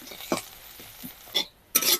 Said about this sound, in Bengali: এই পেঁয়াজটাকে লাল করে ভেজে নেব।